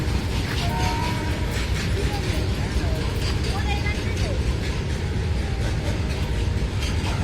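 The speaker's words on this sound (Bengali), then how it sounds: "এই ট্রেন যাচ্ছে" A train rolls past on rails near the Khirai flower fields, a dense continuous rumble with faint clatter and a couple of thin whistle-like tones, while people talk over it.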